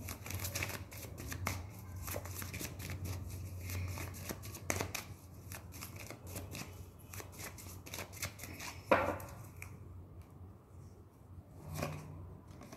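A deck of tarot cards is shuffled by hand in quick riffling bursts and soft slides, close and fairly quiet, with short pauses between runs and no talking.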